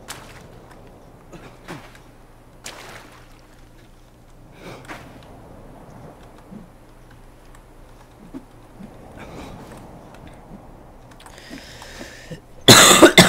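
A person gives a sudden, loud, harsh burst of coughing near the end, close to the microphone, after a long stretch of faint background sounds.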